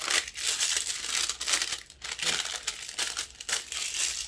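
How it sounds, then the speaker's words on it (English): Shrink wrap film is torn off freshly sealed soap in crinkly, crackling bursts of plastic, close and fairly soft, coming in several uneven pulls with brief pauses between them. "all I have to do is just tear it off"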